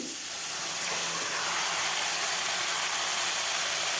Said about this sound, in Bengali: তারপর দিয়ে দেব ধুয়ে রাখা বাঁধাকপি